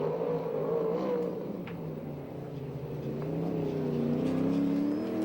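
A USAC/CRA sprint car circles the dirt oval at Perris, California, its engine a loud, sustained drone that rises and falls in pitch as it works around the track; no one speaks.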